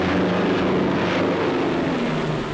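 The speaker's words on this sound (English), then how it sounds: "Joe flashes word that the convoy is being attacked by low-flying bombers." Low-flying bomber aircraft attacking a convoy in a 1944 wartime film produce a loud, dense, continuous engine roar that stays steady throughout.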